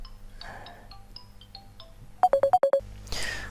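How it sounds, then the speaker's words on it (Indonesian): A telephone rings briefly in a quiet room, a quick run of five or six bright electronic tones that cut off suddenly, followed by a soft rustle. "Oh, sebentar, ada telepon sebentar."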